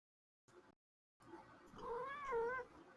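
Cat making grumbly noises, a short low murmur and then a longer drawn-out caterwauling meow with a wavering pitch, close and quiet with no voices.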